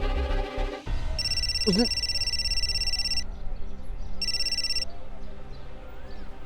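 A telephone rings in two bursts of electronic trilling tones, separated by a short gap, with low room sound and brief speech underneath and no one picking up.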